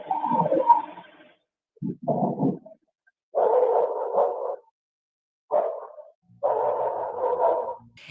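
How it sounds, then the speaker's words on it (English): A dog barks in several bursts, each a quick cluster of muffled barks separated by short silences; the sound is distant and slightly hollow, as picked up by a neighbor's doorbell or surveillance camera. "Now that barking, if you can hear that, hold on."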